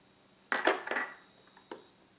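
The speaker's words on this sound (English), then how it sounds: "And we'll just whisk that up too." Dry ingredients for keto, low-carb, gluten-free air fryer bread whisked in a bowl: a quick cluster of close metallic clinks and scrapes, then a lone clink after a short pause.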